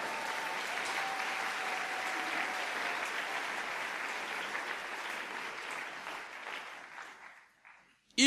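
A church congregation breaks into sustained applause, a dense, even wash of clapping that holds steady and then thins out and stops near the end.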